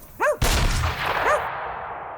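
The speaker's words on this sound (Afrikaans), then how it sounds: "'n skoot wat weer galm." A single sharp gunshot cracks close by and then echoes, its boom trailing off over about a second, with an animal's yelp or call just before and after the blast.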